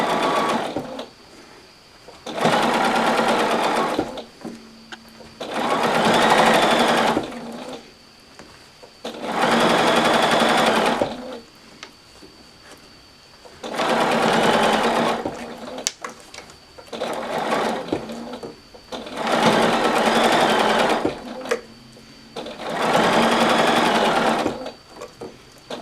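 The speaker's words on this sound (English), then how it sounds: "So let's sew this one in. I love my 1/4 inch foot on my Bernina" Bernina sewing machine fitted with a quarter-inch foot stitching a seam through fabric, running in seven steady bursts of a few seconds each with short pauses between, close and fairly loud with no talking.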